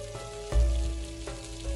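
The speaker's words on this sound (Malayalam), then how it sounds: "രണ്ട് സൈഡും തിരിച്ച് മറിച്ച് വിട്ടിത് നന്നായിട്ട് ഇത് ഫ്രൈ ചെയ്തെടുക്കണം" Chicken frying with green chilies in a pan for homemade kuzhimanthi, a steady hiss with soft crackles and a couple of heavier bumps from the pan or utensil, with no voices.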